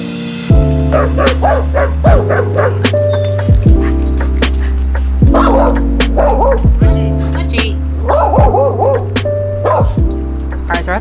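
Dogs bark and yip in short bursts at an empty outdoor dog park, the barks fairly close and repeated over steady low background music or hum, with people talking at times.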